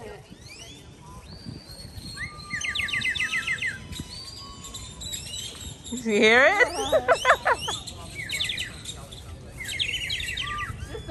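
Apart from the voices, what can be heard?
birds chirping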